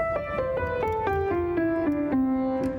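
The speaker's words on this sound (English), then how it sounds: "So instead of the piano sounding like this," A piano plays a slow descending line of single notes, each ringing on and blending into the next with sustained, floaty resonance.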